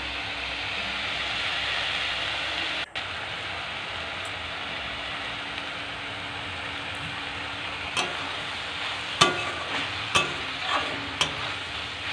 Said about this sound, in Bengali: কড়ার মধ্যে একটু ভালোভাবে নেড়ে ছড়িয়ে একটু রাখবো, যাতে শাকগুলো চারপাশ ভাজা হয়।